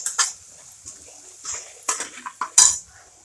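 A spoon stirring turmeric into potato curry in a pan on low heat, a handful of sharp metallic clinks and scrapes against the pan, close-up with quiet gaps between them.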